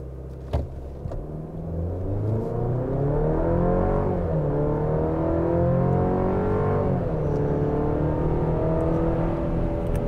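A 2023 Chevrolet Colorado TrailBoss in four-wheel drive auto and normal drive mode accelerates hard from 0 to 60 mph, the engine note climbing steadily through gear changes near four and seven seconds, loud and continuous from inside the cabin.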